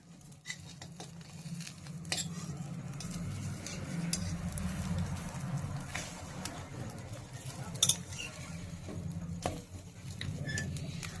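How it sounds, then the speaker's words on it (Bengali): Egg-coated bread slices frying in a pan with a little oil, making a soft, close patter and faint sizzle with occasional light scrapes and clicks, and no talking. "হালকা আছে পাউরুটির এই পিঠটা তলার দিকটা ভালো করে ভেজে নিচ্ছি"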